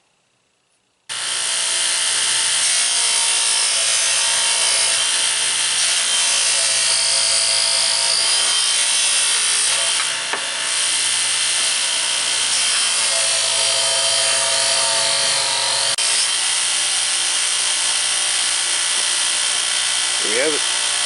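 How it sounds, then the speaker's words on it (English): A rough polishing gun works a handmade knife blade with a loud, steady high-pitched whine and grinding hiss that holds almost unbroken for about twenty seconds, the pitch dipping briefly near the end; no one speaks. "got the rough polishing gun right here. Now to do the main polishing."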